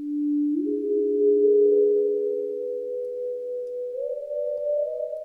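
A smooth synth tone from a theremin-style wavetable patch holds steady and steps up in pitch twice, with a washy reverb tail, sustained and fairly loud with no other sounds.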